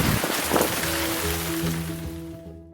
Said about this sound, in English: roar of torrential rain.